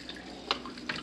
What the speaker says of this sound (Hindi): अभी मैं पानी पिलाता हूँ बशिया को भाई।